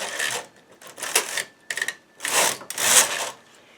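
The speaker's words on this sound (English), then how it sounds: "So I'll thread the carriage and knit from left to right." A knitting machine carriage is pushed along the needle bed, knitting lavender hat yarn in a row from left to right, giving loud close rasping, clattering sweeps in several uneven bursts with brief gaps.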